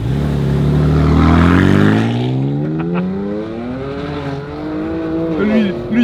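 Race car accelerating on the Le Mans circuit in a video game, its engine note climbing steadily in pitch through the gears, loud and continuous, with a person talking over it.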